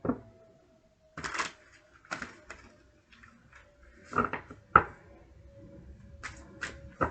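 Oracle cards being shuffled by hand: a scattered series of soft, close riffling and tapping bursts with quiet pauses between them, and no talk.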